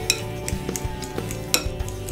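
Guacamole being broken up and mixed in a bowl with a spoon, giving soft scraping and clinking taps of utensil on dish at an irregular pace, close and moderately loud, with no talking.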